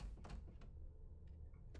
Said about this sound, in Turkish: Kapıyı bir kapat kanka ikisinde